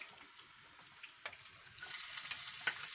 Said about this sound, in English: I put some olive oil, just little, then I put my onions first